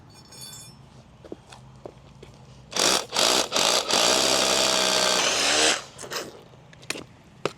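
A power drill bores an anchor hole into a swimming pool deck for a cover, one loud sustained whirring run of about three seconds with a few short pulses around it over steady background noise.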